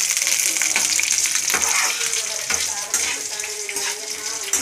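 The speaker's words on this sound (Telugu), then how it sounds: "ఈ ఆవాలు పచ్చిమిరపకాయలు వేగాక వేగుతున్నాయి కదా" Mustard seeds and green chilies fry in hot oil with a steady, loud crackling sizzle and spitting pops that carry on throughout, heard up close.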